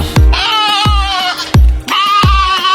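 Repeated loud, close bleats, like a lamb, come in a series of wavering calls separated by short thumps and pauses.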